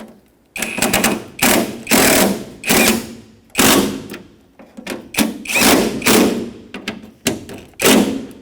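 A power tool runs in repeated short bursts while tightening bolts on the tailgate handle and cable assembly of a 2011-2016 Ford F-150, each whir loud and close with brief pauses between, about a dozen pulses in a row.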